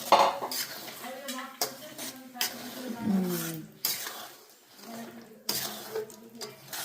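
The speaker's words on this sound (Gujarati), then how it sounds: "જો આ લોટ કમ્પ્લીટ શેકવાનો છે એકદમ ઘીમાં" Flour roasting in ghee in a pan while being stirred for kanidar adadiya, with repeated scraping and clattering of a spoon against the metal pan, close and fairly loud, interrupted by short pauses and occasional faint voices in the background.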